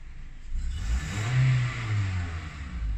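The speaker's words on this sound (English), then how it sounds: "if I give it some gas now" A car engine revs as throttle is given during a test of the mass airflow sensor with a dirty air filter, rising from idle to a loud, close climb and then settling back, with no talking.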